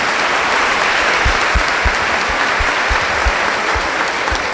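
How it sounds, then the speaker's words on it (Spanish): An audience at a church gathering applauds steadily, dense clapping close and loud for several seconds, with a few sharp low thumps scattered through the sustained applause. "Un aplauso para los hermanos"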